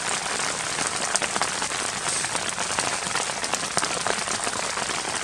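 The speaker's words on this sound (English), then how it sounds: "But this rain's pretty strong actually, and it seems like it's strengthening." Strong rain drums steadily on a tent at a mountain campsite, a dense continuous patter with scattered sharper drop hits, loud and close, no voices.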